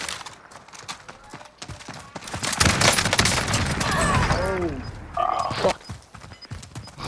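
Video game gunfire: rapid volleys of shots, close and loud, building into a dense fusillade, with players' voices talking over it.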